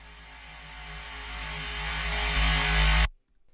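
A rising synthesized laser effect built from a reversed reverb tail swells steadily in loudness and brightness over about three seconds, then cuts off abruptly into near silence.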